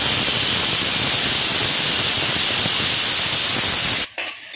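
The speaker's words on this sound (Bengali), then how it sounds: "এই যে এখানে পেঁয়াজটা ভাজছে" Loud, steady sizzling hiss of onions frying in a hot pan, continuous and close, cutting off abruptly near the end.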